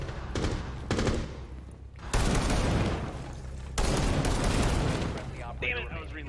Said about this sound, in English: I use the gunfire as both a sound cue and a tool